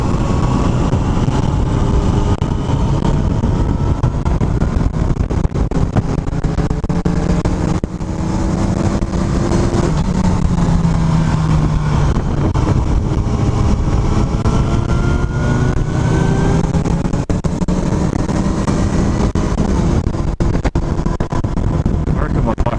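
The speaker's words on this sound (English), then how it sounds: "Sound pretty good with the new exhaust." A motorcycle with a new exhaust drones steadily at speed, with a deep exhaust note and heavy wind buffeting across the microphone throughout.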